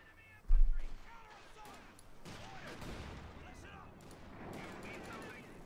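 Panzer IV tanks fire their cannons in Company of Heroes 2, with a sharp heavy blast followed by a wash of rumbling battlefield gunfire and explosions. A commentator talks throughout over the combat noise.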